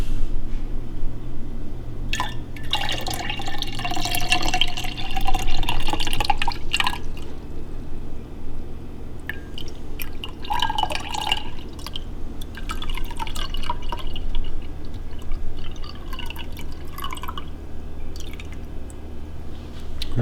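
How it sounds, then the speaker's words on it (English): Homemade buttermilk is poured into a jar, giving close, irregular dripping and trickling liquid sounds in bursts over a steady low background hum. "we're just going to take this buttermilk and just pour it"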